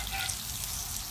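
Bacon frying in a pan sends up a steady, even sizzle, a brief close burst of crackling grease with no voices.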